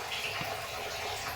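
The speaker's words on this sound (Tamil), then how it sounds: "முள்ளங்கி தீநீர் இறங்கிக்கிட்டு இருக்கு" Radish tea pours in a steady, continuous stream, a close, even splashing rush with no pauses.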